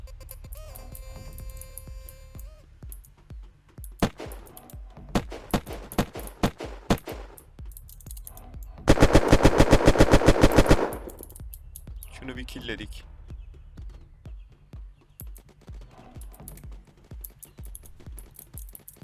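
Rapid automatic gunfire in the online survival game Unturned on a multiplayer server, a dense loud burst in the middle, with scattered single shots and clicks before it and someone talking throughout.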